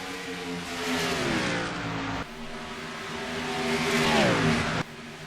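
Race cars in a racing game at Rockingham, with loud, continuous engine whine rising and falling in pitch as the cars rev and sweep past, broken by two abrupt cuts, with no talking.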